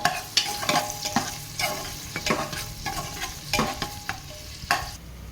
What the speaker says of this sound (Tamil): பட்டை கிராம்பு, மிளகாய், பொடி உள்ளி வதங்கணும்